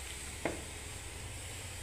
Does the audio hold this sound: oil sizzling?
yes